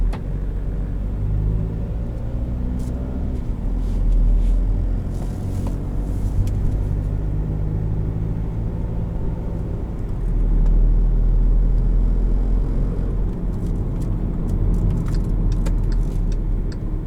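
A 2015 Volkswagen Jetta TDI diesel in normal drive mode hums steadily from inside the cabin, a constant low road rumble with only a faint engine rattle underneath, no voices.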